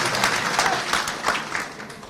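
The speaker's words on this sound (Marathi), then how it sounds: "एकदा टाळ्या आपण त्यांच्यासाठी वाजवण्यासाठी" Audience applause for speakers on stage at a rally about farm loan waivers, a dense burst of many hands clapping that fills the short stretch with steady, crowd-wide rhythm and no talk over it.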